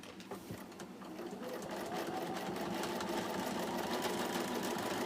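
A sewing machine stitching a patchwork quilt runs with a rapid, even mechanical whir and needle patter, close and steady, gathering speed after a brief start.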